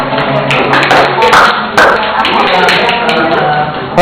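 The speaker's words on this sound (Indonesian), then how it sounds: "Kita tepuk tangan dulu ya kelompok ini" Group clapping in a classroom session for a presenting student group, sharp uneven claps and taps close to the recorder, with voices talking across them.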